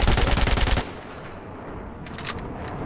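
An LMG fires a rapid burst in Battlefield 4 with a bipod and Cobra sight, loud and close, a dense stream of shots lasting under a second before cutting off into quiet game ambience.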